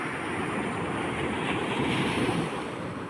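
Rough sea waves break on a beach in a continuous, close, roaring wash of surf with wind, and no voices are heard.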